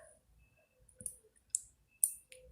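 Sharp, quiet clicks come from typing a website address into a school app, about four or five crisp taps spaced irregularly over near silence.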